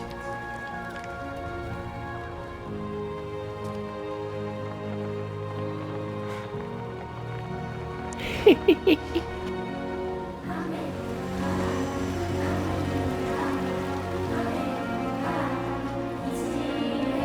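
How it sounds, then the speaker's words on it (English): Steady rain hisses and patters through the whole stretch in the video game Death Stranding 2, mixed with sustained game music tones and a brief cluster of sharper clicks midway. "it must be amazing just to see some actual good rain that heals"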